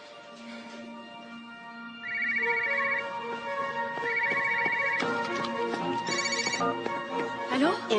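A telephone rings with a repeated electronic ringtone in bursts, mid-level and clear, joined by other tonal sounds and a voice in a French film scene.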